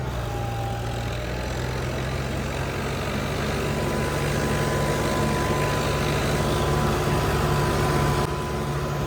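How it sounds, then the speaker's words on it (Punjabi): Several tractors run together while ploughing a large 200-acre field. A steady, loud, low engine drone holds throughout with no pauses, and no voices are heard. "ਬਹੁਤ ਬਹੁਤ ਕੰਮ ਖਿੱਚ ਰਹੇ ਟਰੈਕਟਰ"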